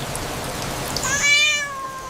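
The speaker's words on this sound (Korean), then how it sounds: "버려져 있는 고양이를" A single plaintive cat meow rises out of soft background patter, heard fairly close and alone.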